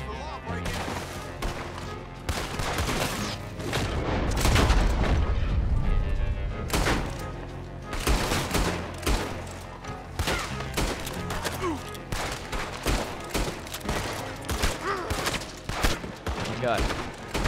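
A gunfight in the video game Red Dead Redemption 2, with dense, rapid volleys of gunshots and heavy booms going on for the whole stretch.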